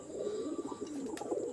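Pigeons coo softly and continuously at a coop at night, a low warbling murmur that carries on throughout.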